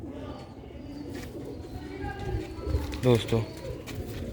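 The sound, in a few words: pigeons cooing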